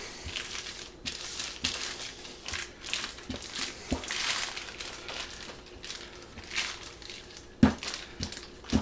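Cookie dough for pinwheel cookies is rolled between sheets of wax paper, giving steady close crinkling and rustling with soft thumps. No one speaks.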